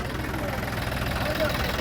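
A steady, low tractor engine idle rumbles throughout, with voices talking over it.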